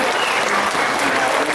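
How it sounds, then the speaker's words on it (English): A dense burst of audience applause at a tiger presentation at Dreamworld, loud and steady throughout, with many hands clapping at once. "let's give you a big round of applause for that"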